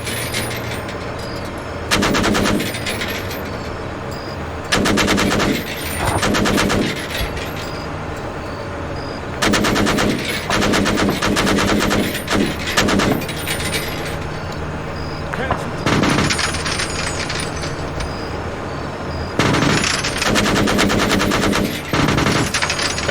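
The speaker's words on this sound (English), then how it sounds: "Fire! Switch to machine gun. Target the enemy infantry." Sustained machine-gun bursts rattle against enemy infantry in the military shooter Arma 3, several long, loud volleys separated by brief pauses, with voices heard between the bursts.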